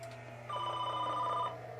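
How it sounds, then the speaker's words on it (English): A telephone rings once, a clear electronic trilling tone lasting about a second over a quiet steady hum, with no talking. "Phone."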